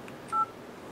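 A single short keypad beep from the 12-key dialer on a Motorola DROID 3 Verizon phone, one clean tone pressed once, close and clear against quiet background.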